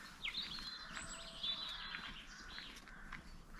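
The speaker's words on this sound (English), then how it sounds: "Spring was definitely in the air as the birds were chirping" Spring birds chirp and tweet in the distance on a country hike, several short high calls over a soft outdoor background with faint footsteps.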